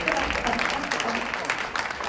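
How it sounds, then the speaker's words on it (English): Audience applause at an adult education program preview event, a steady wash of clapping that holds fairly evenly throughout with a faint voice or two underneath. "Can we have a round of applause?"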